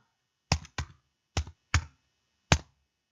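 A file name is typed on a computer keyboard in a quiet room: five crisp, separate keystrokes, with two close together at the start and then spaced taps, and no one speaking.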